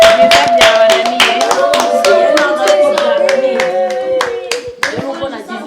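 Applause at a birthday celebration: a group of people clapping in a brisk, dense, close rhythm that carries on for several seconds, with a sustained tone and a voice heard faintly underneath.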